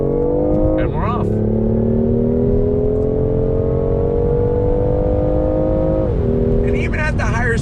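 A 2019 BMW i8 Roadster pulls away under throttle, its engine note rising steadily and then shifting as it gears up, close and continuous beneath someone speaking over it.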